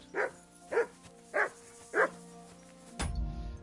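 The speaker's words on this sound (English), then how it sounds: "Oh, dog's still attacking me." A dog in a video game barks four times in a steady, evenly spaced rhythm, fairly loud, followed by a low rumbling thud at the end.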